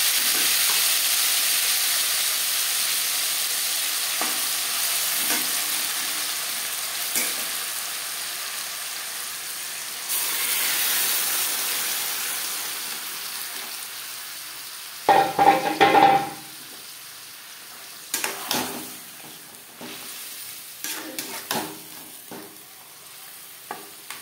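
Marinated mutton fries in hot refined oil with a bay leaf and gets stirred over high to medium flame: a continuous loud sizzle with scattered scrapes, then a burst of louder stirring clatter midway and more intermittent scraping toward the end.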